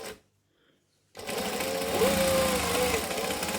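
Sewing machine back-stitching down the sides of a pocket on a bag: after a short silence, a steady close motor whirr starts up and runs continuously to the end.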